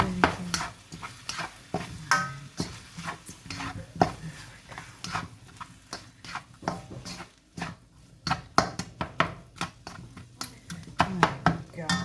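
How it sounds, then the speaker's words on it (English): Frozen broccoli and other vegetables for chicken fried rice are stirred in a frying pan, with repeated close scraping and clattering strokes over a soft sizzle, while a voice talks intermittently. "Give that a bit of a stir."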